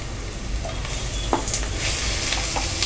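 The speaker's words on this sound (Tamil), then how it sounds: "தக்காளியும் நல்லா வதங்கணும்." Onions and tomatoes sauté in a pan for mutton dum biryani, giving a steady close sizzle with a few soft scraping stirs and no talk.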